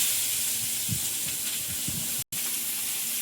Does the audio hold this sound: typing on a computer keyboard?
no